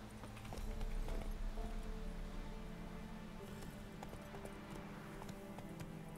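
A called horse trots up in The Witcher 3 video game, its steady clip-clop of hooves running throughout over a constant game soundtrack, with a faint whinny.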